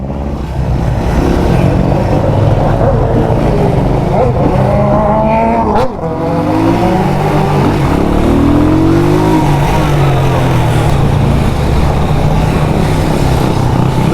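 A motorcycle engine revs hard in heavy Half Way Tree traffic in Jamaica, loud and close with rising and falling pitch sweeps over a steady roar and a brief sharp crack midway.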